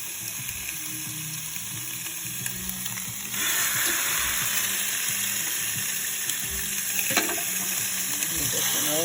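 Maple glazed salmon sizzles in an oiled grill pan with a continuous hiss that grows louder partway through, while a person talks quietly underneath.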